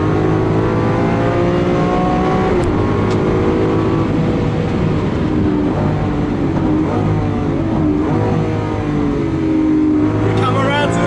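A Lamborghini Aventador SVJ in Corsa mode revs hard toward an 8,700 RPM upshift, a loud, dense engine roar whose pitch climbs and drops through gear changes, with a voice audible over it.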